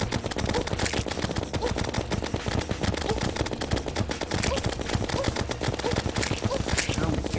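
Minishark gun in the video game Terraria fires a rapid, continuous stream of small popping shots, dense and machine-gun-like, with a player talking over the firing at times.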